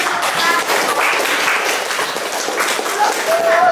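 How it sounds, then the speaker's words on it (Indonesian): A school class claps hands in a classroom, a loud, close flurry of irregular claps with some voices mixed in, continuing for a few seconds. "Tepuk tangan"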